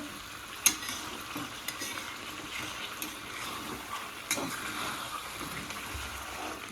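Chicken pieces frying in a pan with spices, stirred now and then: a constant low sizzle broken by a few sharp scrapes and clinks of the spatula.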